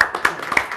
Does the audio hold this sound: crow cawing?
no